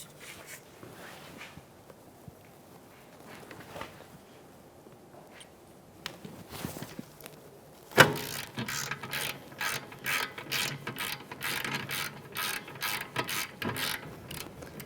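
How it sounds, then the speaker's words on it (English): A ratchet with a 17mm socket clicks rapidly and steadily while breaking loose caliper bracket mounting bolts on a 2013-2018 Toyota RAV4, starting as quieter handling sounds, then loud, close, continuous ratcheting from midway on. "So with a 17mm socket, I'm going to break these mounting bolts free."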